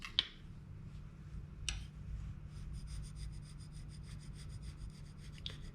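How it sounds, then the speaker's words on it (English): An engineer scraper works over a cast iron grinder table: faint, dry rubbing with a few sharp scraping strokes near the start, in the middle and at the end, over a low steady hum. "And you can see how little is coming off with the engineer scraper"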